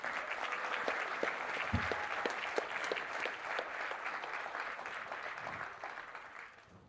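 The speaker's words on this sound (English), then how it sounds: "One final round of applause for Eric LeGrand." Sustained audience applause at an annual HRI conference, dense steady clapping from a large crowd that lasts several seconds before slowly fading.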